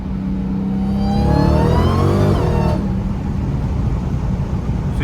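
A Dodge Hellcat on Nitto tires accelerates hard from close by, its engine revving upward for about two seconds before the pitch drops away into a steady roar and road noise, with no voices.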